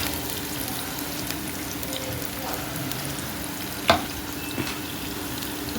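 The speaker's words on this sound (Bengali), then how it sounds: "যে পেঁয়াজ রসুন তেল একটু ভাজা ভাজা হয়েছে" Onion and garlic frying in oil, a steady close sizzle with a couple of brief clinks or stirs partway through.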